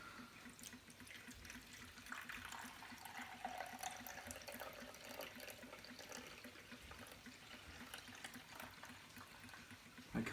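Water poured into the tank of an Arctic Air personal cooler, a steady splashing pour lasting several seconds at close range with no talk over it.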